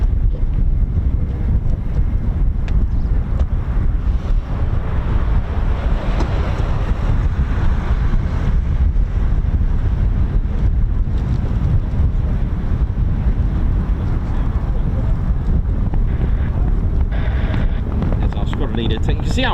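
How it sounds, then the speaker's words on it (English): Strong gusty wind batters the microphone at an airfield where F-15 and F-35 fighters operate, a loud continuous roar and rumble filling the whole stretch. "You can see how windy it is."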